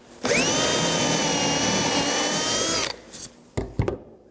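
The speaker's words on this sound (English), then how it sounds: "you drill a hole right in the edge" A power drill bores a hole into the edge of steam-bent wooden window trim, whining steadily at high speed for about two and a half seconds before stopping, followed by a few handling knocks.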